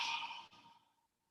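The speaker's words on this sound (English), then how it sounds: "Yawn one more time." A single breathy yawn-like exhale, close and fairly quiet, falling off over about a second into silence.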